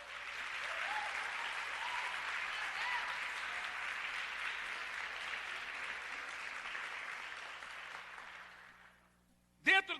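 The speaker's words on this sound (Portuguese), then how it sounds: "Vamos aplaudir?" A church congregation applauding together, a dense sustained clapping lasting several seconds before fading out, followed by a brief knock.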